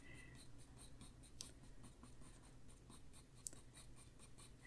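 Inktense coloring pencil shading rabbit fur on paper, a faint, steady scratchy rubbing with soft rhythmic strokes and a couple of sharper taps, heard close and alone.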